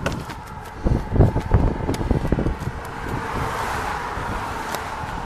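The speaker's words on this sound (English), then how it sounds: "so of course the wind's a lot stronger" Strong wind gusting against a walker's microphone while crossing a bridge in Chattanooga, loud rumbling buffets with passing road traffic underneath, steady throughout with no one talking.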